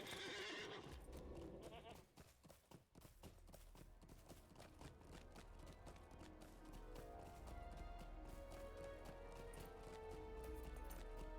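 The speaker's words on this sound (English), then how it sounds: "let's go ahead and get back on my horse" Horse in the online game Lord of the Rings Online, with a whinny near the start, then a steady rapid clip-clop of hooves under game music and ambience, moderately faint throughout.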